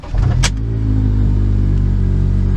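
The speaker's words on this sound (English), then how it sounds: "This is a somewhat cold, mildly warm start on a 2005 Honda Accord Coupe with the K24." A 2005 Honda Accord Coupe with the K24 engine fires up on a cool start: a quick cranking burst, then a steady, loud idle rumble held close by.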